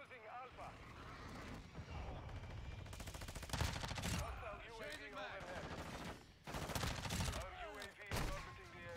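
Shots ring out in a first-person shooter match, a string of loud, sharp blasts with some clustered volleys, heard under a player's talk and the game's own chatter.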